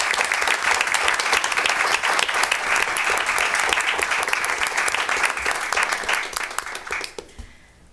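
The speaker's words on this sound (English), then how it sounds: "just give a round of applause." A room full of people at a school committee meeting claps in a loud, dense round of applause that holds steady for several seconds, then thins out and fades near the end.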